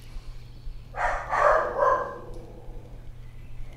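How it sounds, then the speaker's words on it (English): Dogs bark a few times in quick succession, a short cluster of rough barks over a steady low hum, then quiet with only background noise. "That's my dogs."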